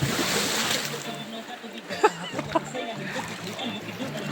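Floodwater splashing and sloshing at moderate distance as a motorcycle rider swims in a flooded river, with a couple of sharper splashes and voices talking faintly in the background.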